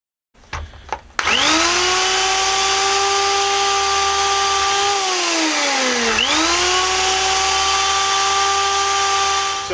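A power drill bores into a pomander sphere with a loud, continuous high whine that starts after a few faint handling knocks, dips in pitch midway as it bites, then recovers and runs steadily close by.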